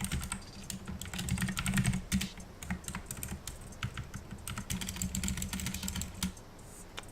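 Rapid computer-keyboard typing of admin commands for the game Atlas: a close, continuous patter of key clicks with short pauses and heavier thumps between bursts, no voices.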